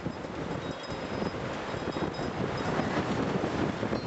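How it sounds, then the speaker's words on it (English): Strong wind buffets outdoors in a sustained, roaring rush with gusty surges, loud and close against the microphone, no voices present. "the wind's blowing this hard"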